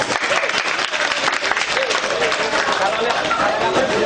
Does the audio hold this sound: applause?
yes